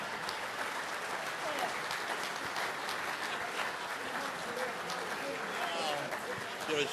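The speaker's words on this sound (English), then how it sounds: "Give a big round of applause, Johnny Garfield" A crowd applauds Johnny Garfield at a testimonial event, sustained distant clapping with voices chattering and calling underneath throughout.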